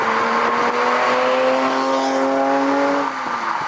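A Ferrari Testarossa 512M engine revs loudly and steadily close by, its pitch climbing smoothly for about three seconds before easing off, with no voices over it.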